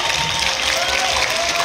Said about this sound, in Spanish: Me gustaría que también le damos un fuerte aplauso.